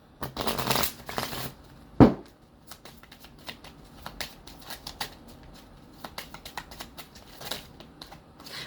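Oracle cards being shuffled by hand, a soft papery riffle with a sharp slap near two seconds, then lighter intermittent flicks and taps, close and fairly quiet.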